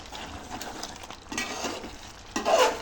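Meal maker chicken curry is stirred in a pan, producing soft, uneven scraping and shuffling that builds to a louder scrape near the end, with no voices.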